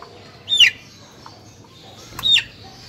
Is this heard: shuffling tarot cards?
no